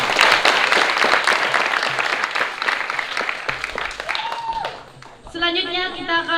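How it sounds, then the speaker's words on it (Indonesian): An audience applauds at a school student development celebration, dense lively clapping close to the microphone with voices over it, fading before music starts at the end. "Beri tepuk tangan yang meriah untuk kita semua."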